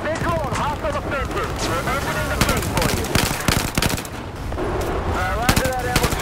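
Rapid automatic gunfire from the video game Battlefield 4 rattles in loud bursts with sharp single shots between them, while a player talks over the shooting.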